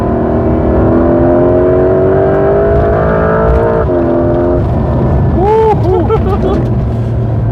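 A Porsche 992.2 Carrera GTS, the first hybrid 911, accelerates hard through tight corners in second gear, its engine note loud and rising steadily, then settling and rising again with shifts, with a voice briefly exclaiming over it.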